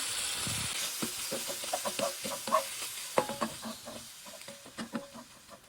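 Finely chopped meat for empanada filling sizzles and crackles in a greasy pan, with scattered stirring scrapes and irregular pops close up.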